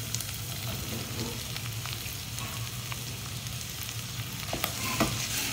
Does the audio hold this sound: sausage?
yes